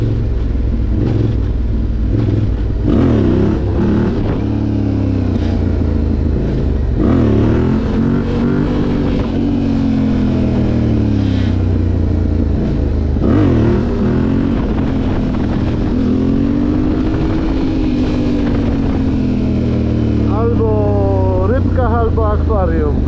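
A Yamaha Raptor quad bike's engine runs steadily throughout, its pitch rising and falling as it revs during off-road riding practice, with someone talking over it.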